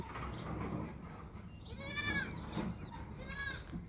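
Goat kids and lambs bleat in a farm setting while being given tonic medicine, two or three clear wavering cries over steady background noise.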